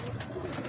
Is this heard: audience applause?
no